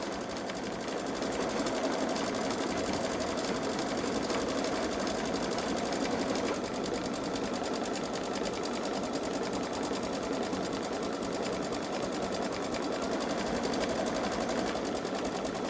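A Babylock Solaris embroidery machine sews a satin stitch around a dove design, giving a continuous, even, fast mechanical buzz that stays close and steady the whole time without breaks.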